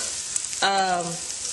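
Tofu frying in a pan on turned-down heat, a close, steady hiss of sizzling oil that continues throughout, with a brief scrape or clink partway through.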